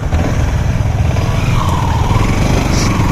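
A loud, close motorcycle engine running steadily, with a rough low throbbing idle that holds for a few seconds without people talking.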